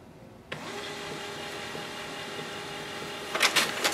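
An HP LaserJet M111w laser printer prints a page: a sudden start followed by a steady whirring mechanical hum, then a few louder rattling clicks near the end as the sheet feeds out.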